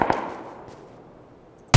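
Gunfire in the battle royale game PUBG: one sharp shot right at the start, then a louder, closer crack at the very end, with a quiet stretch of fading echo between them.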